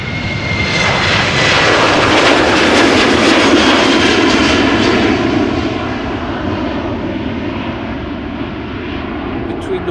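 KLM airliner jet engines roaring at Amsterdam Schiphol Airport, a loud broad rumble and whine that swells and then slowly fades as the aircraft passes, with someone talking over it.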